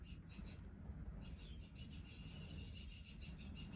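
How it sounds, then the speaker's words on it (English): Parrot-like birds calling in a neighbouring garden, a faint, rapid run of repeated high chirps heard at a distance over steady low background hum. "Birds. They're like parrot things, and they were in the garden."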